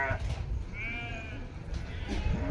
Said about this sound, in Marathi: इथे खूप साऱ्या बकऱ्या मेंढ्या आलेल्या दिसत आहे आणि मला असं वाटतं मी लावलेला झाड बकऱ्या खात आहे